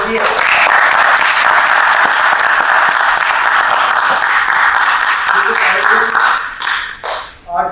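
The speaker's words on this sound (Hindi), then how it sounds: "तालियां बजती हैं।" Audience applause after a Jaipur folk tamasha performance of Gopichand Bhartrihari, dense sustained clapping from a large crowd that holds steady and then tapers off at the end.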